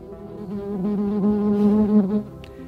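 A bee buzzes close around the microphone outdoors with a loud, wavering drone that rises and falls in pitch as it moves, then fades away after about two seconds.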